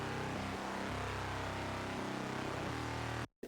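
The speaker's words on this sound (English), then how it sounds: "a guitar synth that I have from my new metal producer pack, Guitar Layer 2" A dense, heavily distorted guitar synth layer from a new metal producer pack, Guitar Layer 2, roars as a thick continuous wall of grinding tone with shifting low chords, then stops dead.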